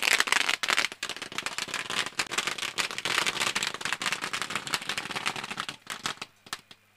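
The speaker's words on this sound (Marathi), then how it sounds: "फटाक्याच्या आतषबाजीनं हा सन्मान" Firecrackers set off in welcome at a village cricket tournament, a dense rapid string of sharp crackling bangs that fills the clip loudly before thinning into a few scattered pops at the end.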